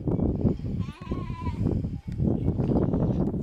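A lamb bleats among a flock of sheep outdoors, one wavering cry rising over a constant din of many sheep calling and shuffling nearby.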